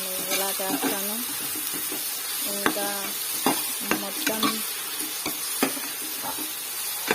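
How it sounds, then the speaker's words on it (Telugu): Ginger garlic paste sizzles and crackles in a curry pan and is stirred with a spoon that clinks several times against the metal. A person speaks briefly over it. "కొంచెం కర్రీకి సరిపడా అల్లం వెల్లుల్లిపాయ పేస్ట్ వేస్తున్నాను"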